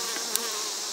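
Honey bees buzzing at an open hive during Apiguard mite treatment, a steady close swarm hum filling the short moment with no voices.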